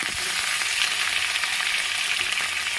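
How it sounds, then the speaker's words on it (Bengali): Small pieces of fish fry in hot oil in a pan, giving a loud, even crackling sizzle that fills the whole stretch without a break. It is heard up close with no talking. "দিয়ে তুলে রেখে দিয়ে মাছটা ভাজছি"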